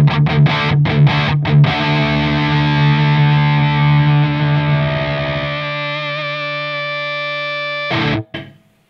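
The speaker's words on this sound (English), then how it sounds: "With the tone killed off, it just gives it a totally different character." Taylor Solidbody electric guitar on the bridge pickup with the tone rolled off, distorted and dark, with a few choppy chords, then a long sustained chord fading out and a brief final stab, no talking.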